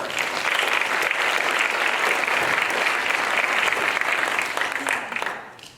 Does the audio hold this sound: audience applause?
yes